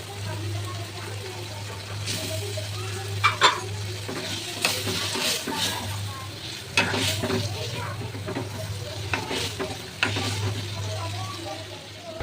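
Taro corms and fish cook in a pan, giving a steady sizzling hiss under a low hum, with recurring scraping and clattering stirs against the pan.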